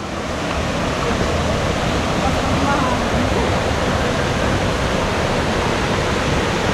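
Loud, constant rush of flowing river water at a resort in Antipolo, a broad steady roar with no pauses filling the whole stretch.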